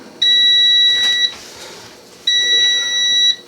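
An air fryer sounds two loud, close electronic beeps, each a steady tone lasting about a second, separated by a short pause, with no talking.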